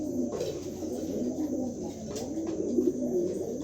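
A pair of pigeons coo steadily, soft low throaty calls repeating close by over a faint background hum, with no voices.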